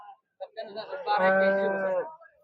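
A dairy cow at a cattle market gives one long, loud, close moo lasting under two seconds, rising after a short grunt and standing alone against a quiet background.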